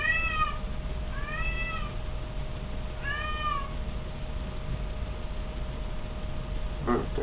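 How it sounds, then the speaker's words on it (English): A red-coated cat meows indoors in an apartment, three drawn-out rising calls in the first few seconds, moderately close, over a steady low hum with a brief knock near the end. "But I do got a replacement cat."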